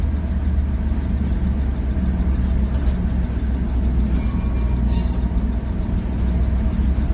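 An M1028A2 CUCV dually truck rolls downhill on momentum, a steady low engine drone and road rumble heard from inside the cab, constant and fairly loud, with a faint squeal near the end and no talk.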